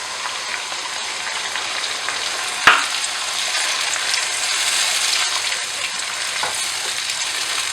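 Onion paste and tomato paste frying in a pan for a spicy potato gravy, a loud continuous sizzle and crackle with one sharp clack of a utensil partway through.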